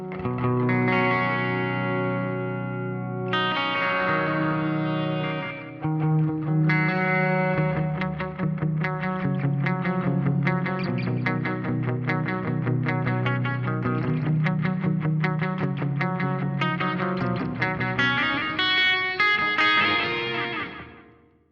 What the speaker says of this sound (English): I'll bring in some delay just so you can hear how the reverb works with it as well.